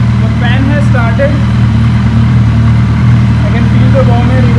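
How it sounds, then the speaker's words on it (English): A Suzuki Hayabusa idles with its radiator cooling fan running, producing a steady loud hum and whir under the engine's low drone, while a person speaks briefly over it. "The fan has started."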